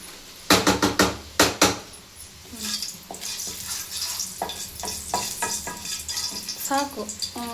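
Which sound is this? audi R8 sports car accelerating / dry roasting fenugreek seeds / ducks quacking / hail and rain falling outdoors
dry roasting fenugreek seeds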